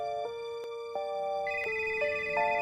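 A phone rings with an electronic ringtone of sustained melodic tones that step between pitches, clear and steady from start to finish with no voices.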